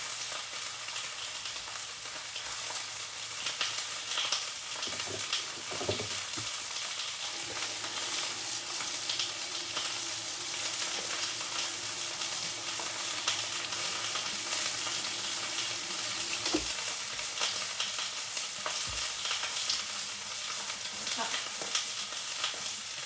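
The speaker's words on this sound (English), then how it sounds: "we're just gonna make sure they get like a nice sear, that they're nice and browned on one side before we flip them" Chicken pieces sear in a hot pan, a dense, continuous sizzle holding steady throughout, with a few faint knocks from the pan or utensil.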